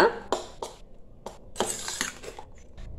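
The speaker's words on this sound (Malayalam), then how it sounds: "അപ്പോൾ അതാ നന്നായിട്ട് മിക്സ് ചെയ്ത് കൊടുത്തു" A spoon stirs raw mango kichadi with curd in a dish, giving a string of light, irregular clinks and scrapes, close and fairly quiet, with no voices.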